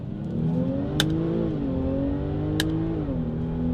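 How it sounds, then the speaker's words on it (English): A supercharged Jaguar F-Pace SUV engine revs steadily with a rising and falling supercharger whine, loud and close, with two brief sharp clicks partway through. "You could hear the supercharger whine. The exhaust note's fucking crazy."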